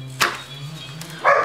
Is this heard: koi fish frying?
no